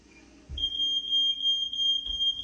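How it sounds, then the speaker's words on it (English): A household smoke alarm shrilling as someone cooks pizza, a piercing steady high-pitched tone with slight pulsing, over a low background rumble and a couple of soft thumps. "That's the smoke alarm."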